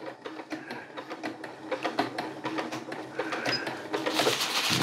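Sewing machine lock-stitching a lightweight 9 oz tarp fabric, a steady rapid clatter of stitches running close and fairly quiet, with a quicker burst toward the end.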